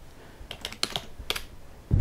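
Quick typing of a file name on a computer keyboard, a short burst of close, crisp key clicks lasting about a second, with a louder thump at the end.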